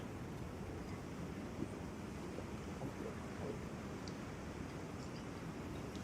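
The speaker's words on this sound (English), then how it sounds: "It picks up my fan, which you may be able to hear." A room fan runs in a bedroom, its steady broadband whoosh picked up by a finicky microphone as a faint, continuous, even hiss with no talking.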